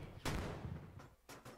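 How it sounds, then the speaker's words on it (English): A sniper rifle fires in the blocky SWAT shooter game Blocky Combat SWAT Edge: one sharp, heavy report with a decaying tail, then two quicker, fainter cracks, no talking over it. "That sounds like a sniper."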